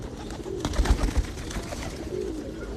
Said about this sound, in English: You're not a parakeet, you're a pigeon that's getting in the way.